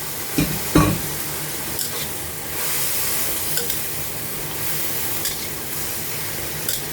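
Morning glory and pork cracklings are stir-fried in a pan with a little soy sauce, giving a steady close sizzle broken by a few sharp scraping and tossing clatters near the start and scattered through.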